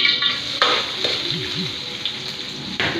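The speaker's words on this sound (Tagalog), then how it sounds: "Una, mantika. Ilagay natin yung sibuyas." Onion sizzles in hot cooking oil in a pan, a steady bright crackle with a few scrapes and clinks of a utensil stirring it.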